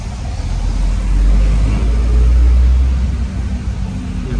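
A Toyota Hilux engine idles steadily close by with its air conditioning running, a continuous low drone with a slight swell and fall in loudness.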